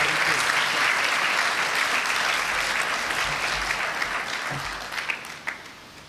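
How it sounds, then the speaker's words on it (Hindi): A church congregation at an Easter Vigil Mass claps in warm, dense applause that holds steady for several seconds and then tapers off, with a few scattered claps near the end. "ईस्टर आपकी ज़ोरदार तालियों में आपको बहुत बहुत मुबारक हो"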